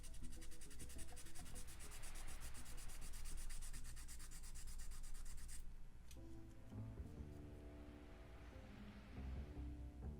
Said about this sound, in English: I buffed one of them out.